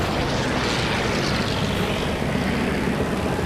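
P-51 Mustang propeller fighter in flight during a dogfight, a loud, continuous engine drone that holds steady throughout without speech.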